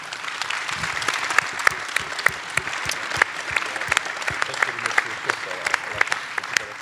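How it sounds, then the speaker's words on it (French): An audience at a game contest awards conference claps steadily in sustained applause, dense and even, with a few sharper claps standing out near the microphone. "peut-être qu'on pourrait les applaudir tous"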